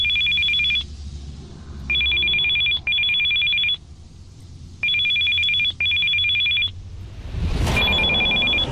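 A telephone rings in the video game Still Life 2, repeated electronic double-burst rings in a steady pattern with pauses between, over a low background hum.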